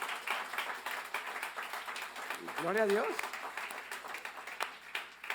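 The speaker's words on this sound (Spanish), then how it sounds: "No le va a dar un aplauso al Señor por eso" Church congregation applause during a pastor's sermon, a fairly faint, steady patter of many hands clapping, with a voice calling out over the top partway through.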